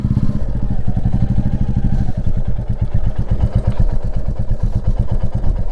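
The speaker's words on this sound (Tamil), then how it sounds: "வண்டியோட சவுண்டும் பயங்கரமாக இருக்குது." A Royal Enfield Classic 350 motorcycle engine running close by, with a loud, steady, rapid thumping beat and a mechanical clatter throughout.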